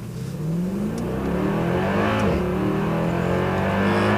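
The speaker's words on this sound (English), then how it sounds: "So we'll hit the gas as hard as we can and then brake as hard as we can as well." A Mercedes-AMG car accelerates hard on a driving track, its engine note climbing steadily from a low rumble into a loud, sustained rising roar close by, with no one talking.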